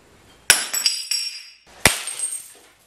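Two sharp impacts a second apart as an iPhone 6S is smashed, each followed by tinkling glass-like shattering and scattering debris, close and loud.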